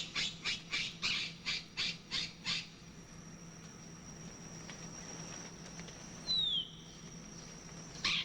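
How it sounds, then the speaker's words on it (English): A rapid series of harsh, rhythmic squawks from tame call parrots used by a trapper in South America, then a pause with faint background hiss, a single rising call, and another squawk at the end. "the trapper uses tame call birds to attract the wild parrots"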